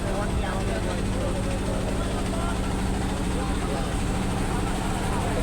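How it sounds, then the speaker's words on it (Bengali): A loud, constant engine drone and rumble of a river trawler, with people talking over it throughout. "দেখুন আমাদের সামনাসামনি আরেকটি পিকনিক ট্রলার আসছে বিপরীত দিক দিয়ে।"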